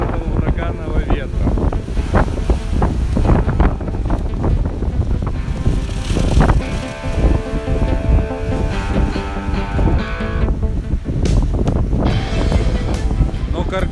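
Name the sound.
hurricane-force wind howling at frame house construction site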